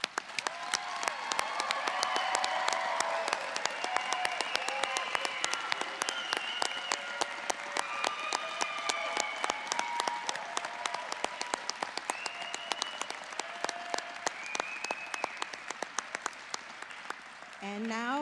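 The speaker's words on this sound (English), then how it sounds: "Let's give them all a round of applause." Steady applause from a large audience honoring standing graduates at a spring commencement ceremony at Kent State Ashtabula, sustained dense clapping that fills the hall for about eighteen seconds before tapering off.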